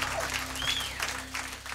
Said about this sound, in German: Ah, voraufgezeichneter Applaus